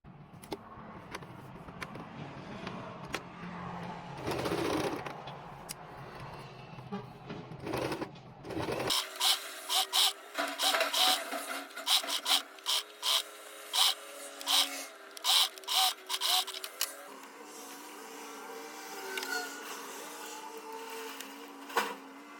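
A sewing machine stitching a mock shirt collar runs in short repeated bursts of rapid mechanical chatter after a stretch of quieter handling and rustling, loud and close with no talk.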